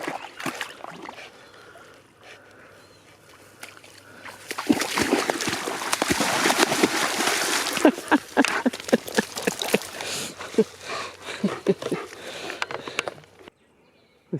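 A rescue dog swims and paddles through water, with a burst of loud, busy splashing and sloshing that swells midway and continues in uneven pulses before stopping abruptly near the end.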